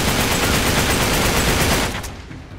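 Enemy gunfire in the video game Uncharted 3 aboard a ship, a loud, continuous rattle of rapid automatic shots that fades out near the end.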